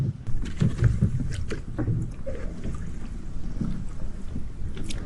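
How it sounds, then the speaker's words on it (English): Oars work a small boat on open water while a man rows out to gather floating bamboo poles, giving soft splashes and dull knocks over a steady low wash of water and breeze. "He rows out to collect the floating bamboo poles"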